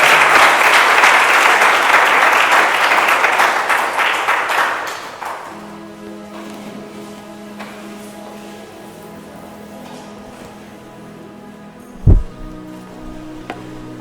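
A church congregation applauds loudly and steadily for about five seconds at a Lubumbashi gathering, then the clapping fades into a quiet hall with a low hum and a single sharp thump near the end.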